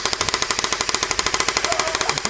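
Toy gun firing in a rapid automatic burst, evenly spaced sharp clacks repeating about ten times a second, loud and close, with no voices over it.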